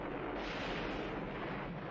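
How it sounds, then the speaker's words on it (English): A deep, steady rumbling roar of an explosion in the film Rambo: First Blood, heard as if from a distance, holds at a fairly low level throughout, with no talking. "I love explosions in old movies, man."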